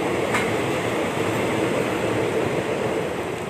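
A long train with many carriages rolls past in a steady, unbroken rumble and rattle of wagons, fairly close and without any talk.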